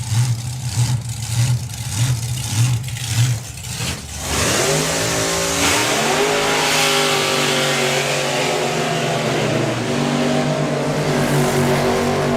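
A yellow drag racing car called El Loco does a burnout at a nostalgia drag racing meet: a loud, close engine revs in rhythmic bursts, then roars into a sustained high-rpm scream with tire noise that holds to the end.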